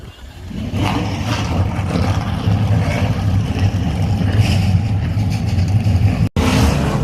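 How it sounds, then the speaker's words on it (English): NASCAR Pinty's Series race car engines rumble and drone steadily in the rain at Canadian Tire Motorsport Park, a dense, continuous engine roar with a brief dropout near the end. "Drivers, start your engines."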